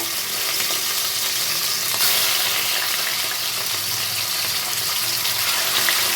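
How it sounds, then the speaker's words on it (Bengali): Pieces of katla fish fry in hot oil in a home kitchen, a loud, steady broadband sizzle that carries on unbroken and close up, with no voices over it. "এগুলোকে আমি এইভাবেই দু মিনিট দু মিনিট করে এক সাইড ভেজে তুলে নেবো"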